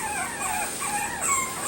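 A dog or puppy whimpering, a thin wavering high whine repeated several times at moderate level, with no talk over it.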